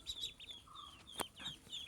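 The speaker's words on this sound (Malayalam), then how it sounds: "കുഞ്ഞി താറാവ് കുഞ്ഞുങ്ങൾ" Duckling chicks peep in quick, high chirps, several overlapping in short bursts, close by with no talking.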